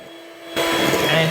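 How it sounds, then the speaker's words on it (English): Pavlova mixture is whisked in a glass bowl, a whirring, steady electric buzz starting abruptly after a quiet moment and running loud to the end. "So we're just going to whisk this up."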